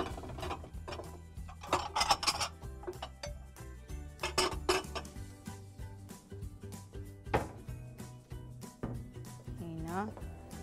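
Kitchen handling of a plate and eggs, with clinks of dishes and utensils and light clatter spread across the stretch, close and moderate, mixed with background music or tones.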